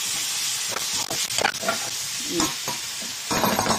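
A spatula stirs cooked bitter gourd (ampalaya) in a frying pan, giving close, irregular scraping strokes over a steady sizzle with a few louder clatters of utensil against metal.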